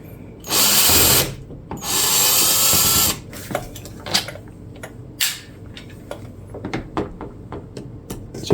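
A 2.5 mm hex driver backs screws out of the chassis of a Mojave 4S RC car: two sustained whirring bursts up close, followed by scattered light clicks and rattles of small parts.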